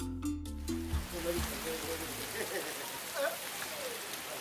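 Steady rain falls in a dense, even hiss throughout, with some tonal music briefly audible at the start before fading under the downpour.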